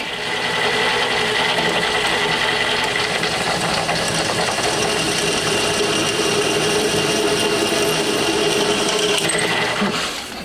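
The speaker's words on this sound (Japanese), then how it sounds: "M6 の穴開けてと" Power drill boring an M6 hole into a motorcycle fairing cowl for a Honda RC146 replica, a loud, steady whine held for about ten seconds, close up with no speech.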